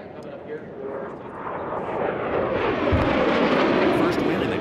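A jet-class racing aircraft at a national championship air race roars past, its broadband engine noise swelling louder over several seconds with a commentator talking over it.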